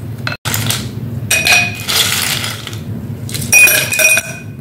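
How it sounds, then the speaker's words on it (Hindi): Ice cubes dropped into glasses of thick falsa sharbat make bright clinks and rattling bursts in several clusters, loud and close, with short pauses between, with no voices. "गिलासों में बर्फ डालना,"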